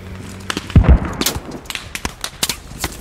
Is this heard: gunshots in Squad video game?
yes